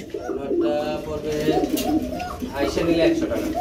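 Running pigeons, a grizzle and gribaz cross, coo repeatedly in a busy pigeon market, soft throaty calls layered over steady crowd chatter and people talking nearby.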